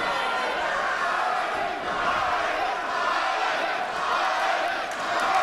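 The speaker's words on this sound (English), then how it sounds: "The London Music Hall crowd coming alive for Violet Lee, though." A wrestling crowd at London Music Hall cheers and shouts in a dense, sustained roar, with chanting and whoops filling the hall throughout.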